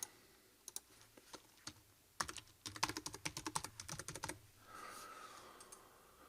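A password is tapped out on a computer keyboard, first a few scattered clicks, then a quick burst of rapid close keystrokes, then quieter background hum with no talking.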